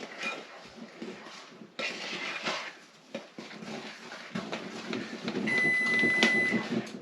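A kitchen oven beeps once it finishes preheating, a single steady electronic tone sounding near the end, following soft kitchen clatter and rustling.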